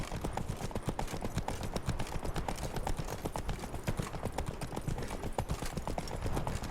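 Horses' hooves clip-clop at a steady walking rhythm in The Witcher 3, several animals moving together, clear and fairly close with no talk over them.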